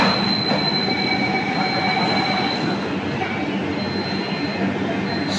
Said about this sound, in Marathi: इकडे बघा पाठीमागे मेट्रोवाले, आता याचे दरवाजे खोलतील आपोआप